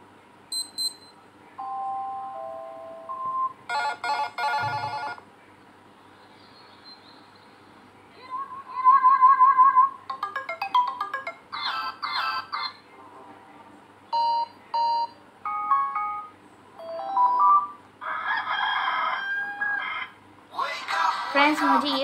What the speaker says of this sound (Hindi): यहाँ से रिंगटोन बजना स्टार्ट हो जाएगा।